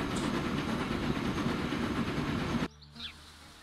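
Train rolling along steadily with a clickety-clack rhythm on a railway in the Transport Fever 2 game, loud and continuous, cutting off abruptly near the end to a quiet moment with a faint high chirp.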